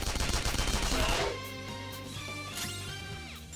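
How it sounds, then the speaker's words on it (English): Gunfire in the video game Persona 5 Royal: a loud burst of rapid shots is followed by ringing tonal effects that fade out. "Try shooting him though."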